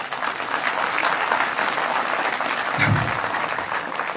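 Audience applause, a continuous crowd of hands clapping at steady strength for several seconds with no talking over it.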